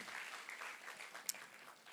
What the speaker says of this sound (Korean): 우리 모든 성도들에게 격려의 힘찬 박수 하시겠습니다